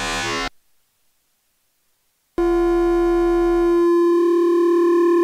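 Distortion output of a synth module clipping the signal: a short burst, two seconds of silence, then a loud, steady buzzing drone with strong harmonics that shifts pitch partway through.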